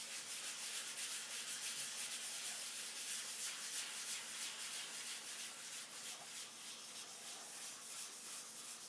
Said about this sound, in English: If there's a spot, you sand it until the spot is dull.